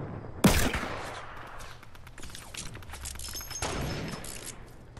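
Rapid bursts of drum gun fire in Fortnite, a sharp loud volley at the start and another spray later, with crackling shots fading into quieter game ambience between them.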